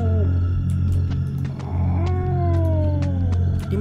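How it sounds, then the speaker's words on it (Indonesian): A cat meowing in the horror game DreadOut 2, drawn-out wavering meows over a loud low ambient drone, close and clear, with faint clicks in the background. "Ada suara kucing, sebentar."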